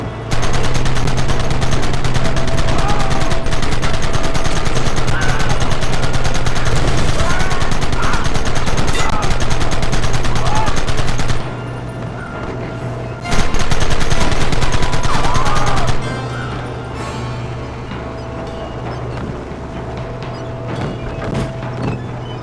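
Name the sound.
gunfire in the video game Red Dead Redemption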